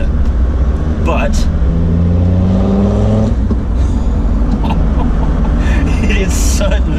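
A remapped Land Rover Defender Td5 diesel engine revs up loudly and close, rising in pitch over a few seconds before dropping back to a steady rumble.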